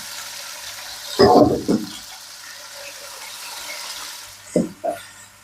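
Meat going into a hot pan for an oven-baked meat and vegetable tagine, giving two short bursts of sizzling and frying about a second apart, then a quieter simmer and two more brief crackling bursts near the end.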